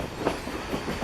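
Coal-burning steam train rolling along the Essex line, a steady low rumble with soft rhythmic clickety-clack of wheels over rail joints, heard from inside a riding carriage.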